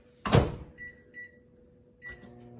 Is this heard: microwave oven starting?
yes